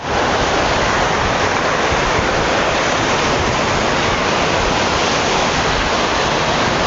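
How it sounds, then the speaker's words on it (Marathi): Steady, roaring surf of sea waves at Harne port fort on the Konkan coast, a dense unbroken wash of water noise with possible wind buffeting, close and loud with no voices. "पण अगोदर आपण समुद्र बघून घेऊया"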